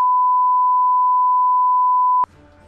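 A single loud, steady censor bleep tone holds for about two seconds over swearing, then cuts off abruptly to faint background sound.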